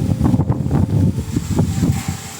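Strong wind buffets the microphone in a steady low roar, gusting and rumbling throughout without a break.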